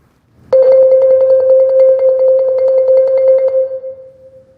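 A marimba mallet roll played on the same spot sustains one loud, even, rapidly repeated note, then tapers and rings out at the end.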